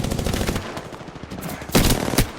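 Rapid automatic gunfire in Apex Legends, dense and loud close up, with a heavier burst near the end and no talk over it.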